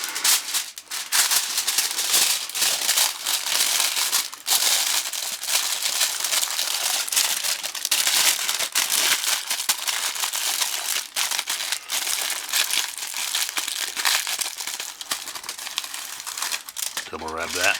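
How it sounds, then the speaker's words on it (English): Aluminium foil being crinkled and folded tightly around a banana, with continuous close crackling and rustling and a person speaking alongside. "I'm going to wrap one in foil."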